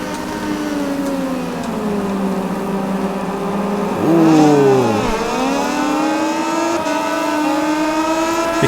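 Moto2 racing motorcycles in MotoGP20, a sustained high engine whine with a rival bike slipstreaming close behind, its pitch sweeping and overlapping mid-run as the machines pass, no talk.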